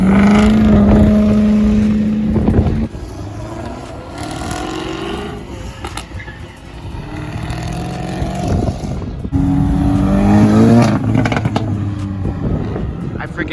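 A Nissan GT-R drives away from a car meet, its engine roaring and revving loudly up close and then fading, with people talking excitedly over it.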